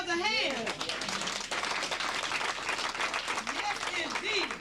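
A seminar audience in New York City applauding, dense steady clapping throughout while a voice talks over it.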